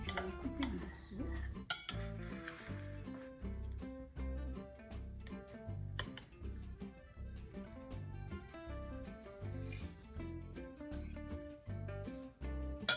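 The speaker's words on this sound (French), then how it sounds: "Je vais en couper un morceau." Cutlery on a plate while cutting a piece of warm tarte tatin: repeated close metallic clinks and scrapes in an irregular rhythm, heard alone without talk.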